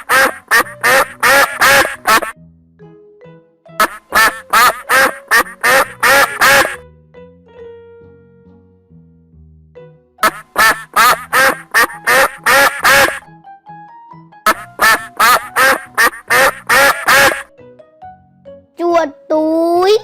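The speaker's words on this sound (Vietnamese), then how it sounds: "Con vịt." Loud, repeated duck quacks come in rapid bursts of several calls each, separated by short pauses. A voice is heard briefly between the bursts.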